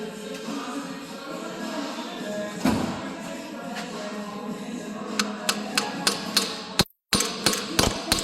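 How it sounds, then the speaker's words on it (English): A run of sharp metallic hammer taps on a running windshield wiper motor, about a dozen in quick succession, rings out near and clear against a steady background hum, with one heavier knock earlier. "Now what I'm going to do is tap on it with a hammer."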